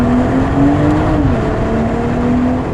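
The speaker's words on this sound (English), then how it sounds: "Let me start from 0 to 100 just to check it" A Brooklyn Grey BMW 440i Gran Coupe pulls hard from standstill in Sport Plus with traction control off, its engine droning loudly and rising steadily in pitch from inside the cabin, with no talk.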